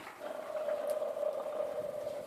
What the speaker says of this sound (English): Pretty much the bearing's gone, or maybe a bent shaft.